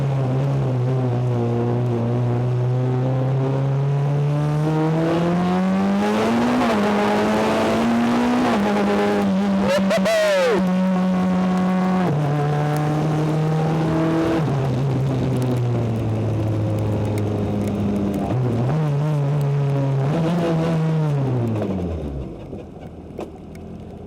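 A BAC Mono with straight-cut gears is driven on a wet road in the rain, its engine note rising and falling through several gear changes, one sharp rev spike midway, close and loud, then dropping away to near idle at the end.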